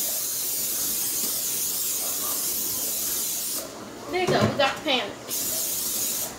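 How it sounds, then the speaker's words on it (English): A short hissing spray in a few quick bursts from an aerosol can of cooking spray onto a baking pan, close by, with a person speaking briefly. "So now, spray the pan."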